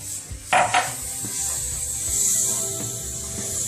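A spoon stirs crawfish étouffée in a cooking pot, giving a couple of brief scraping clunks near the start, then soft, continuous rubbing and swishing that carries on quietly.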